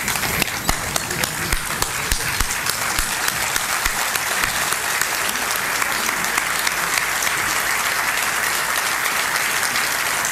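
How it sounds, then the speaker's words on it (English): Standing ovation for a speaker after his speech on government accountability, a dense, sustained wash of crowd clapping that fills the hall steadily from start to finish. "May I request a standing ovation to Mr."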